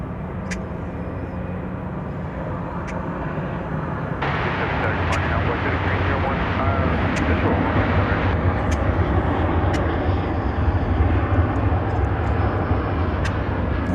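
An American Airlines airliner departs at DFW Airport, a steady low engine rumble that thickens and grows louder partway through, with occasional faint clicks over it.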